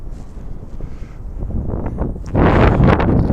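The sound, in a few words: wind blowing on the camera microphone outdoors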